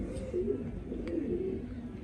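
Pigeons coo in low, soft, throaty hoots that overlap in a steady murmur, with a faint chirp partway through. No one speaks.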